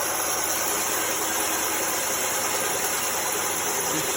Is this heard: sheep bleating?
no